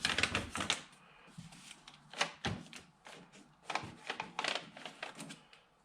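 A fingernail scoring and marking a sheet of sound-deadening material for a Vauxhall Vivaro van, giving a series of sharp scratchy clicks and strokes in an irregular rhythm, close up, with no talk.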